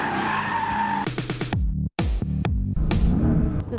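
A car brakes hard from 100 km/h to a full stop, loud tire squeal and skidding bursts cutting in and out with short gaps, close and alone without talk.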